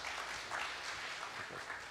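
Audience applause at an international missions leaders forum, a soft, steady wash of clapping from a seated crowd, heard at a distance.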